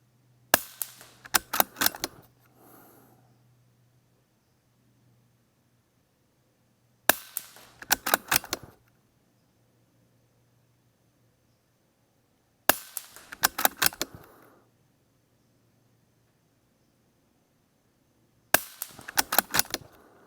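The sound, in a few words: integrally suppressed Ruger 10/22 rimfire rifle shots, AB suppressor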